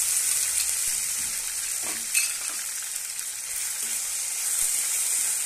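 Onion paste sizzles in hot oil with whole spices such as cardamom, cinnamon and cloves, a steady close hiss of frying with a few soft stirring scrapes and no talk.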